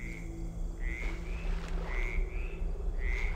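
Frogs croaking in a swamp in a Thief fan mission game, repeated short rising croaks recurring every second or so over a steady ambient drone and low background hum.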